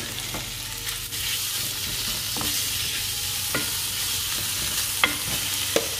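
Meat searing in a frying pan with butter and minced garlic, giving a steady, close sizzle with a few sharp utensil clicks and scrapes scattered throughout, no voices.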